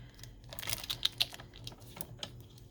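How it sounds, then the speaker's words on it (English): The edge of a sheet of tracing paper is trimmed straight across, giving a quiet run of soft, crisp clicks and ticks close by, with no talking. "I'm just going to trim off this edge right across."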